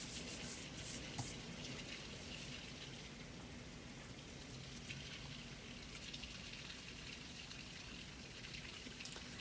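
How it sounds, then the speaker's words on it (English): Rainwater trickling and splashing through a downspout just outside a window, a steady broadband patter that holds even and fairly faint throughout with no voices. "I have a downspout right outside my window, so you're probably hearing part of that."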